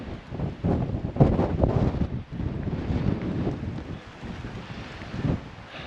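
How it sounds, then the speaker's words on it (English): Gusty wind buffeting the microphone outdoors in southwest Oklahoma, a steady low roaring rumble with surges and brief lulls, loud and close throughout. "Just a tad bit windy too."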